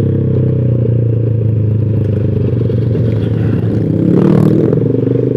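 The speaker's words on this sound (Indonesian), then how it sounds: "knalpot lu berisik anjing" A loud motorcycle exhaust rumbles steadily up close on a main road in Bogor, a deep throbbing drone that swells briefly near the end.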